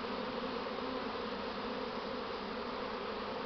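Honey bees swarming outdoors in a grassy apiary, a dense continuous buzz, loud and steady throughout with no voices.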